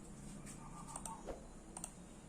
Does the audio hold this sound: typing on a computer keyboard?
yes